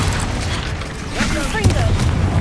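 Confringo blasting spell exploding in Hogwarts Legacy, a booming burst with crackling debris and rumble amid game ambience, while a voice speaks over it.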